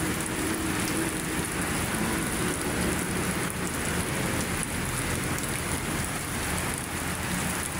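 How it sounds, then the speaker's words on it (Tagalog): Dense, heavy rain pours steadily in a thunderstorm by Manila Bay, a continuous hiss of drops on surfaces close by, with faint low rumbles of thunder beneath. "Grabe naman ang lakas ng ulan."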